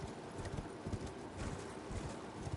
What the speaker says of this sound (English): Let me just get on my horse and go over here.